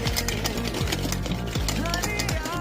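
A blender whirs hard and rhythmically through instant Bru coffee, sugar and a little hot water, a loud close buzzing with a repeating churning pulse.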